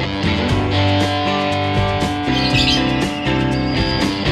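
Banded pitta chick chirping while being hand-fed, a close, steady stream of insistent high begging tweets over a faint background tone.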